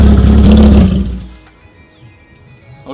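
An old BMW E30 barn find with nearly empty tank, engine loud and close for about a second before dropping away to a low, faint idle hum.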